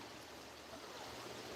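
A creek flows steadily outdoors during gold prospecting, a faint, continuous broadband rush and trickle of water heard alone throughout.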